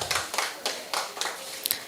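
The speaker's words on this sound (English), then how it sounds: "Another round of applause for her, please." A small press conference audience gives a short round of light, scattered handclaps that sound thin and somewhat distant.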